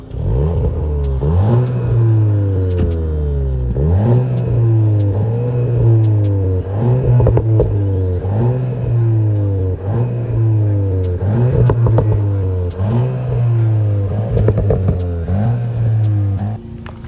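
A Volkswagen Golf GTI Clubsport engine revs repeatedly in rising, falling waves, loud and close, with a hissy, airy intake whoosh over a steady mid-range drone.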